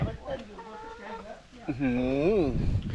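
A tame farm chicken at a rural pond homestead clucks close by, a drawn-out rising and falling call standing out over a noisy outdoor background, with people talking nearby.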